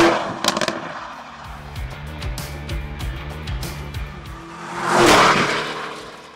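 A Lamborghini Urus Performante's 666 hp engine pulls hard under acceleration on winter tires, a rising close engine roar with gear-like pulses and a loud swell near the end, no speech.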